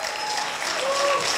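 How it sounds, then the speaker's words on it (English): Audience applause breaks out for a student presenter at a startup pitch competition final, a steady wash of clapping across the short stretch with some faint talk mixed in. "let's give him a big round of applause"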